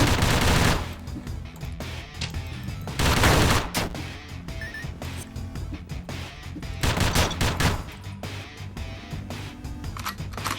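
Loud, rapid gunfire from the pixel-art dungeon game Dungreed, with dense bursts of shots rattling almost continuously, swelling in heavy volleys near the start and middle over layered game effects.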